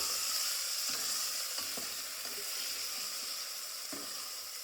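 Tomatoes stirred and frying in a hot pan for dal, with a steady broadband sizzle and a few soft scraping knocks of a spoon, close and continuous with no talk.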